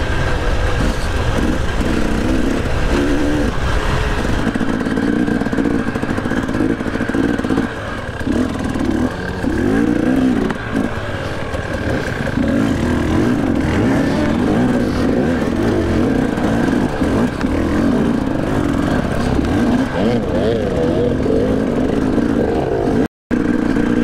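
Enduro motorcycle racing in South Africa, heard from the rider's own bike: a loud, continuous engine drone rises and falls with throttle changes and brief dips, staying close and steady throughout with no talk.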